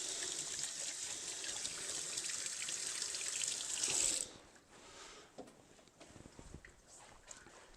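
Tap water runs steadily into a kitchen sink during handwashing, a broad continuous rush lasting about four seconds before it cuts off, leaving quiet room noise and a few soft clatters.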